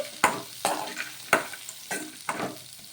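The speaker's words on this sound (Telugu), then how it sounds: "ఇలా వేసేసుకొని మొత్తం ఒకసారి బాగా కలిపేసుకోవాలి మరి ఇవన్నీ కూడా కొంచెం మగ్గించుకొని" Green chillies, coconut, tamarind and garlic sizzle in a pan, with about six evenly spaced scraping stirs of a spatula cutting through the frying hiss.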